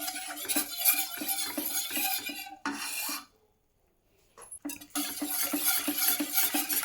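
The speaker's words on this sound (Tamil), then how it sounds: "இப்போ இதில் ரவையை போட்டு கிண்டலாம்" Semolina being stirred in a metal pan for homemade rava appalam, a repeated scraping and rattling of the spoon against the pan that stops briefly midway, then resumes.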